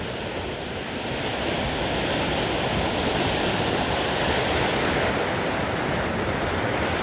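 Sea waves breaking against the cliffs and caves at Covesea near Lossiemouth, Moray, Scotland, a steady loud roar of surf with continuous wash and some wind rumble throughout, no voices.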